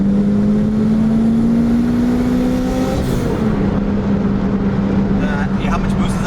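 Turbocharged Toyota MR-2 Spyder engine held near 5,000 RPM, a steady loud drone with a rising then settling pitch, people talking over it close by.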